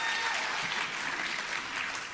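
An audience applauds a second grade elementary school teacher at a Teacher of the Year ceremony, with steady, dense clapping that holds at an even level throughout.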